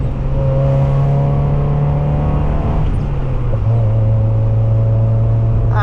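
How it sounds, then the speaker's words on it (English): A Mazda Miata heard from inside the car, its engine note dropping through a downshift before revving back up, loud and continuous with no talking. "And the downshifts."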